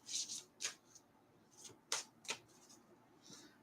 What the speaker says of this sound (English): Let's shuffle this a couple of times.